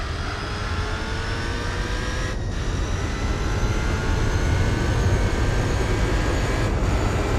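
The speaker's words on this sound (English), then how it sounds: "it sounds like it's got a turbo in the car, even though I've naturally aspirated it" A naturally aspirated TVR racing in Gran Turismo 4, its engine giving a steady, loud high-revving drone with a whining, turbo-like character, holding a constant roar with rising harmonic sweeps and two brief dips around gear changes.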